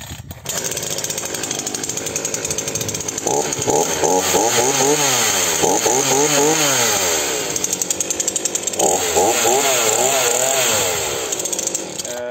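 A Titan TTL759CHN 40cc petrol chainsaw with a new Stihl chain runs loud and close, idling with a steady buzz and revving up and down in repeated rising and falling whines.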